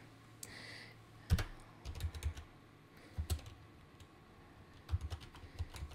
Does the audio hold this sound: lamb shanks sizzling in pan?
no